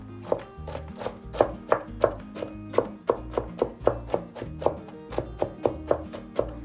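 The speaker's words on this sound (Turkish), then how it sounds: "Şöyle ince ince" A knife chops walnuts rapidly and steadily on a board, a quick run of close, crisp taps with no talking.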